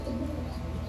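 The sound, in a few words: racing homer pigeon cooing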